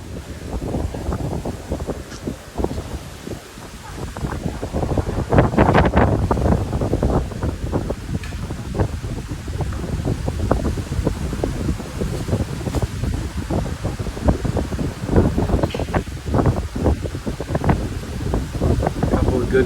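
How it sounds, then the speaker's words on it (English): Hurricane wind gusts roar across a bayfront marina with water nearby, loud sustained buffeting that rises and falls in gusts, with rustling and splashing underneath throughout. "Couple of good gusts."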